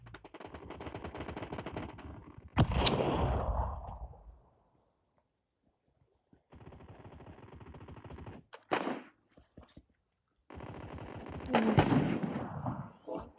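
Sniper rifle fire in a first-person shooter game: sharp, loud gunshot cracks ring out amid bursts of rapid gunfire and noisy game sound, broken by short silent gaps.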